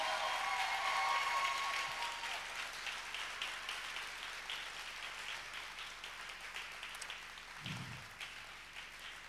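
A church congregation gives warm, grateful applause, a broad steady wash of many hands that slowly fades in level, with a faint low thump near the end.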